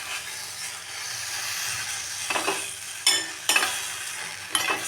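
Betel leaves and herbs being sautéed in a hot pan for a cold and cough remedy: a steady, soft sizzle broken by several scraping stirs of the spoon against the pan, close and clear.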